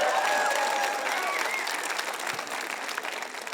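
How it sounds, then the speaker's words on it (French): Crowd applause at a large church gathering, a dense, steady wash of clapping from a big audience, slowly easing in loudness, with a few faint voices. "J'aimerais que ce côté-là applaudisse ce côté-là qui a été vraiment formidable."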